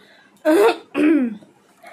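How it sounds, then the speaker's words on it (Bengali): A woman's two harsh, close bursts of coughing and throat clearing, each about a third of a second long with a short pause between them, loud against near silence. "তো কাশিটা এখনও গলায় আটকে যাচ্ছে।"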